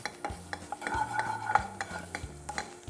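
Whole spices such as peppercorns, coriander seeds, cumin, cinnamon and black cardamom lightly cooking in a pan, with soft sizzling under scraping stirs and light clinks of a utensil, close and quiet.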